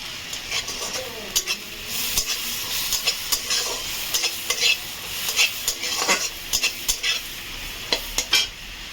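Three or four bay leaves sizzle in hot oil with whole garam masala and cumin while a spatula stirs, giving a continuous hiss broken by frequent sharp scraping clicks against the pan, close and clear.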